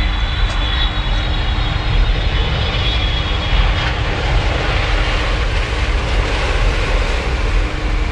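A jet airliner with structural damage, an Aloha Airlines Boeing 737, roars steadily through its landing as a loud, continuous engine and wind rush with no voices.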